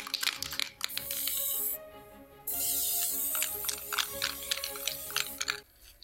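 Aerosol spray can hissing in long bursts, with a steady spray near 1.8–2.4 seconds and other short spurts plus clicks and rattles, close by during a lamp-building craft project made from toys.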